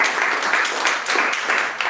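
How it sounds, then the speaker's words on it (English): Dense applause from a breakfast pitch-event crowd for the startup accelerator companies that just presented, brisk overlapping claps close by and fairly loud throughout. "So let's give them a big round of applause."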